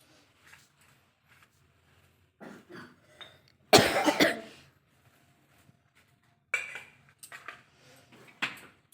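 A person with a cold coughs loudly in a short harsh burst indoors, near the mic, amid quiet household clatter of dishes and cutlery while tidying a dining table during evening worship chores.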